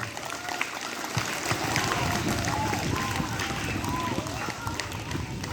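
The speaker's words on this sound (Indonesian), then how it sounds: "Mari kita berikan tepuk tangan lagi untuk hal ini" Audience applause at an Indonesian village head's speech for the 78th Independence Day celebration, a dense steady wash of clapping from a crowd that swells after the first second and holds, with voices mixed in.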